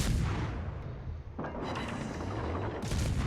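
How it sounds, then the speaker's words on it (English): Ship guns firing in a naval warfare video game, heavy booming salvos with dense rumbling blasts, one burst near the start and further loud reports later, all close and loud. "so I'm going to take a few shots"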